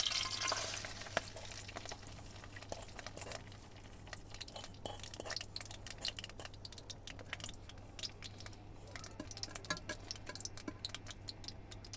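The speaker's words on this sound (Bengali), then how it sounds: "এই তেল ফুটছে? ফুটছে মা গো, কি লাভালাভি করতেছে।" Oil bubbling and sizzling in a frying pan, heated for eggs, a steady faint crackle with scattered small pops and ticks throughout, continuous and fairly quiet with no talk over it.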